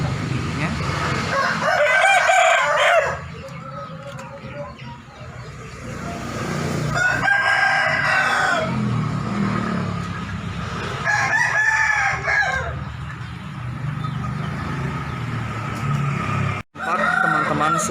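Several loud Pakoi roosters crow in long drawn-out calls, one after another, against busy outdoor background noise and occasional voices.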